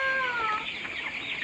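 White broiler chickens about 17 days old vocalize in a brief, steady burst of high chirping and clucking, close and fairly loud, with no talk.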